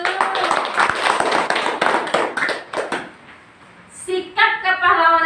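A classroom of pupils claps hands together briskly for several seconds before it dies down, and then a voice speaks.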